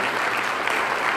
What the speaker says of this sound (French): on applaudit à la gloire de Dieu.